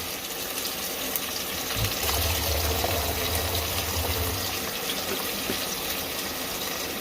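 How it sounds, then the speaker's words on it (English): Water pours steadily into a cooking pot for rice inside a pickup bed camper on a winter night, a close, continuous gushing fill lasting several seconds over a low background hiss. "Put a little bit of water in here."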